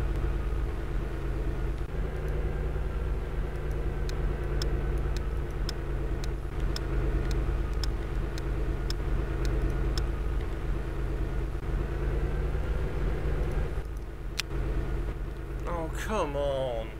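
A car engine in a PC driving-test game hums steadily throughout, a low continuous drone with faint clicks, while a person talks over it.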